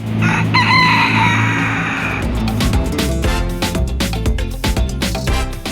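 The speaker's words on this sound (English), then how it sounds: "You can even say hi to some of Miami's iconic roosters, which walk around without a care." Roosters crow on a Miami street, a loud, drawn-out cock-a-doodle-doo up close at the start, then clucks and street bustle.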